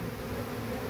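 Dense, steady buzzing of many honeybees swarming around a honeycomb frame as the comb is cut, a continuous close insect drone with no pauses and no voices.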